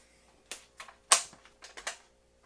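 A Remington rifle's trigger breaks in a dry-fire test, a sequence of sharp, crisp mechanical clicks, one louder snap near the middle followed by a few lighter clicks, close up in a quiet room.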